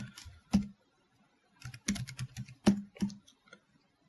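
Several sharp key clicks from typing on a computer keyboard during Cinema 4D modeling, coming in short irregular bursts with brief pauses between, close and fairly quiet.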